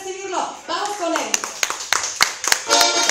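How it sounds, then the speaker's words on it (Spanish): Scattered clapping greets a guest, the Torito de Michoacán, on a stage show, with sharp individual claps rising through the second half while voices talk and call out over it. "Un fuerte aplauso para recibirlo."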